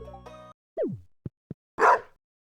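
A pet cactus in Stardew Valley barks at close range, with a short rising cartoonish yelp, two tiny pops and a final gruff bark-like burst after a brief musical jingle.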